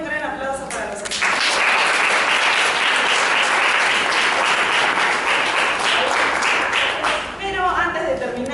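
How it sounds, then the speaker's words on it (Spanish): An audience at a literature and culture discussion breaks into loud, dense applause for the expert panel, swelling after a brief spoken moment and holding steady for several seconds before tapering as a voice returns. "Un gran aplauso para los expertos."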